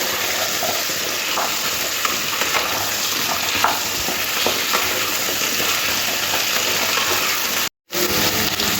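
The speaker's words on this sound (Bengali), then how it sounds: "এবারে তেলের মধ্যে দিয়ে একটু ভেজে নিতে হবে" Potato and taro pieces frying in oil, a loud continuous sizzle heard up close, with occasional stirring clatter and a brief dropout near the end.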